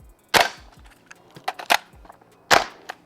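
A Cybergun Scar Light MWS gas blowback rifle fires in a backyard, sharp cracking reports coming in a few separate shots with quieter mechanical clicks between them, no voices.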